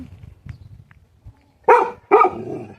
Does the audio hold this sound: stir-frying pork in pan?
no